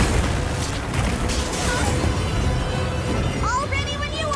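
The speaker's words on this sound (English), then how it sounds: "Those secondary explosions are so devious." Explosions in the video game Monster Hunter Wilds during an Arch-Tempered Rey Dau hunt, dense continuous booming and crackling bursts with a few electronic chirps near the end.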